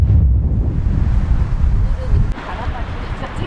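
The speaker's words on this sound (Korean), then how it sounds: "바람 장난." Strong gusty wind roars around a parked car while camping off-grid in a snowstorm, a dense low rumble buffeting the microphone. It eases slightly after a brief knock, with faint voices in the background.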